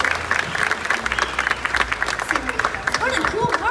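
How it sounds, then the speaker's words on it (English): Applause from a live audience at a family bird show, steady clapping throughout with crowd noise and a voice speaking over it. "How about a round of applause for our volunteers?"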